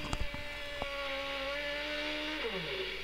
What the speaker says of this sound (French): on fait le bruit du moteur et des très jolis burn-out je trouve là